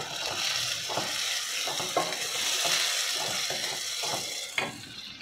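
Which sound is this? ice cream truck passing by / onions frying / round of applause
onions frying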